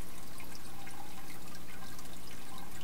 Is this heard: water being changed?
yes